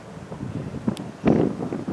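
Gusty wind at an empty hotel in Egypt in windy season buffets the microphone in rumbling bursts, swelling strongly partway through, with no voices.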